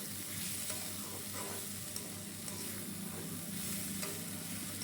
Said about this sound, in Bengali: সমস্ত কিছু দিয়ে এটিকে আবারও খুব ভালো করে একটু নাড়াচাড়া করে ভেজে নিলাম